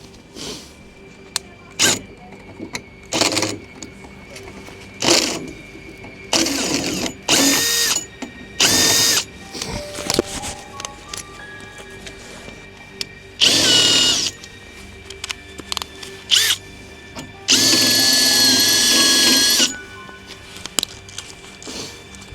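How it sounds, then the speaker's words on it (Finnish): A power drill drills out a stripped screw in repeated short bursts, some longer and louder, with clicks and handling noise between runs; close by, nobody speaking. "Siitä on pää nuljaantunut, niin täytyy se porata auki."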